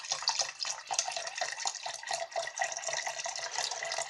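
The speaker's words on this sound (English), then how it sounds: "start adding a litre of your pure orange juice" Pure orange juice poured from a litre carton into a vessel for orange mead, a continuous close splashing gurgle running steadily without pause.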